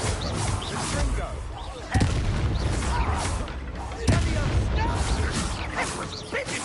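Confringo blasting curse explosions in Hogwarts Legacy, sharp booming blasts at intervals over a dense crackling, rumbling battle soundscape, with a voice talking over it.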